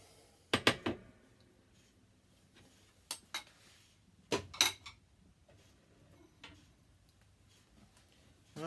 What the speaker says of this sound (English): Empty my bowl.